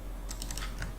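Typing of month names on a computer keyboard into an Excel sheet tab: a short run of about six light, close keystrokes over a steady background hum.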